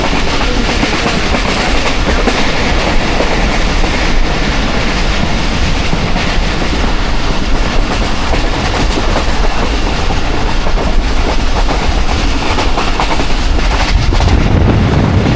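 The Awam Express train passing through Kharian Cantt, loud, close and continuous rumbling with rhythmic clickety-clack of wheels on rail joints and some wind buffeting.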